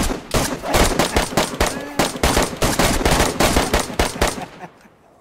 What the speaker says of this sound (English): here's gunshots like crazy.